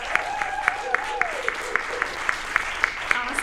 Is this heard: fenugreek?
no